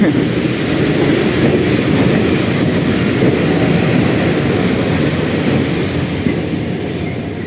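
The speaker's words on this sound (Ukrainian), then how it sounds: "мені завжди подобається дивитися на прибуття потяга" The Dnipro–Truskavets passenger train arrives at the station, rumbling close by, its wheels rolling with a loud, steady clatter that eases slightly toward the end.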